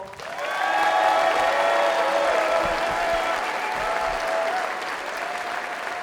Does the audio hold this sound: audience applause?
yes